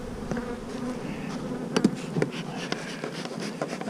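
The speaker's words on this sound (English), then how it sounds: "These bees will sting your booty, girl." Bees buzz close by during a walk in the woods, a steady droning hum with a few louder passes as individual insects fly near.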